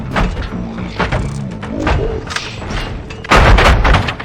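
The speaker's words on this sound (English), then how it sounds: "Gunshots? What's going on?" Gunshots and thuds in the video game RoboCop Rogue City during a prison riot: a run of sharp, loud impacts and bangs, with a heavier blast near the end, mixed with game noise.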